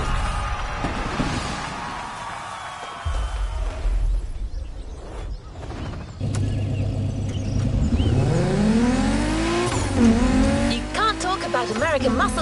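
A muscle car in The Crew Motorfest racing game starts up and revs hard, its engine rising in pitch through repeated accelerations with tire squeal, loud and close, with someone talking over it.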